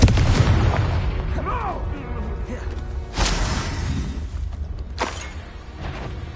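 Confringo blasting spells exploding in the Hogwarts Legacy video game: a heavy boom at the start, then sharp crashing blasts around the middle and later, with shattering debris between them.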